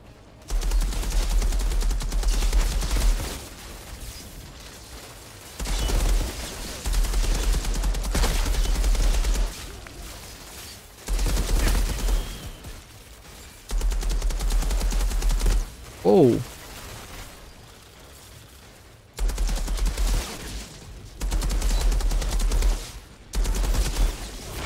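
Gunfire from a weapon in the video game Outriders comes in repeated rapid bursts, each lasting a few seconds with short pauses between. The shots are loud and continuous, broken by one brief whooshing effect.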